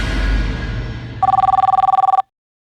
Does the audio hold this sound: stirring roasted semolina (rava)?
no